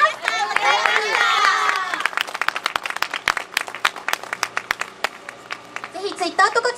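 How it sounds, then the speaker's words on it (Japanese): Applause from the audience at an outdoor charity festival stage show, a dense burst of many hands clapping near and loud that thins into scattered individual claps, with cheering voices at the start and talk returning at the end. "もう一度大きな拍手お願いします"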